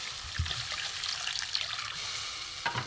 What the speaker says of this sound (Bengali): এবার আমি জল দেবো, অল্প করেই দেবো,